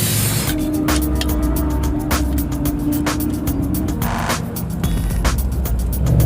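An aerosol can of coolant is sprayed onto a hot carburetor during a 24 Hours of LeMons race, giving a loud steady hiss with a string of short sharp bursts and clicks.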